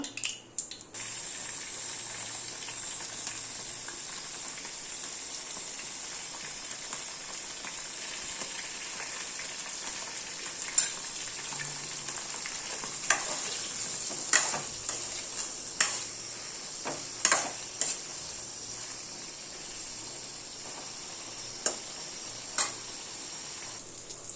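Brinjal curry frying in oil in a pan, a continuous bright hiss of sizzling with scattered pops and clicks of stirring, close and steady throughout with no talk.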